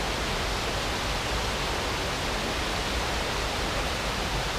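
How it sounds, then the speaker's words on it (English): Water flows in a dense, steady rushing hiss that stays at an even, fairly loud level throughout, with no voices over it. "like the sound of the water"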